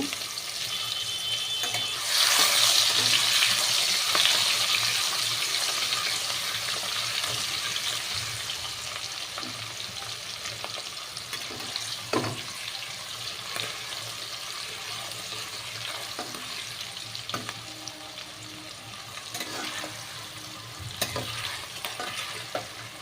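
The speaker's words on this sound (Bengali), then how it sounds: "কেটে রাখা দুটো পেঁয়াজ আমি দিয়ে দিলাম, ভাজা করব পেঁয়াজটাকে।" Two chopped onions frying in a pan for a mutton curry, giving a steady sizzle with occasional stirring scrapes, loudest at the start then settling into a quieter continuous fry.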